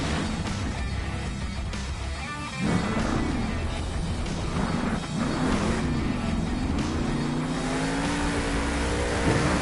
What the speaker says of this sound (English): the next truck out will be Jamie Sullivan in Monster Mutt